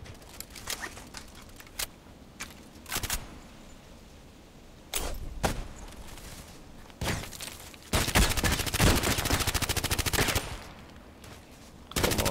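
Bursts of rapid gunfire from a video game shooter, with sniper-style shots and automatic fire cracking in clusters, growing denser and louder toward the end, with no talking.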